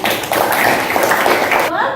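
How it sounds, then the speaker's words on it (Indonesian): Students clapping in a classroom, a brisk burst of hand claps mixed with voices that cuts off abruptly near the end. "Tuh, ya beri tepuk tangan."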